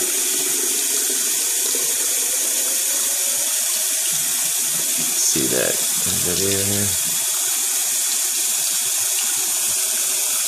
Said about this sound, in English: Just go ahead and turn your water on full blast.